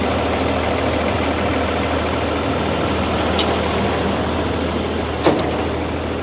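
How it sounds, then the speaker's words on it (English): Engine of a new Claas Evion 430 combine harvester runs loud and steady up close, a dense continuous roar with a deep low drone, one brief sharp knock near the end. "I want to get the old throttle cable and give it some revs like."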